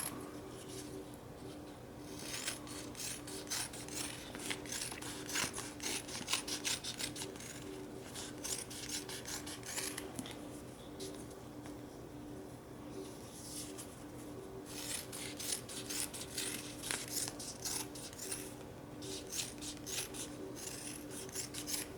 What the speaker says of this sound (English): So I'm going to cut this into typically 4 or 3 strips.